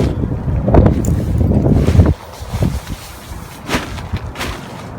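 Strong wind buffets the microphone in heavy low rumbling gusts beside a large camping tent, dropping off midway to lighter intermittent puffs.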